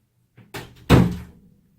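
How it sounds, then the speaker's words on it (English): A door is pushed shut with a soft creak followed by a solid, close thud that fades quickly into silence. "shut the door."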